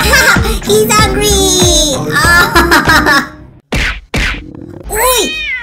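Loud, busy commotion with a cat meowing amid excited voices and cartoonish sound effects, ending in a couple of sharp sweeping noises.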